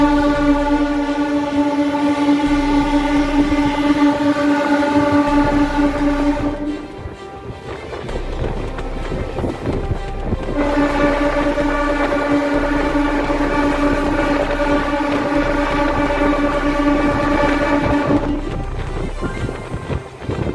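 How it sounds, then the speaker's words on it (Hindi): An EMU train runs across the new Yamuna railway bridge in Delhi, a loud steady rumble with a sustained hum and wind buffeting, briefly dipping midway before resuming, with no voices. "आइए अब देखते हैं दिल्ली मेट्रो के साथ इस एएमयू ट्रेन की रेस"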